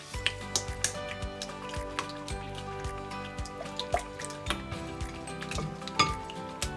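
Hot potato is stirred into beaten egg for a Spanish omelette, a utensil clinking and tapping against the bowl in a steady run of light, close, repeated knocks.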